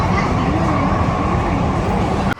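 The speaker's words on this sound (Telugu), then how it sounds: "ఇంకా మెట్రో ట్రైన్ ఎక్కేసాం." Inside a moving metro train carriage, a continuous broadband rumble and rolling hum fills the cabin at a steady level, ending with a brief click near the close.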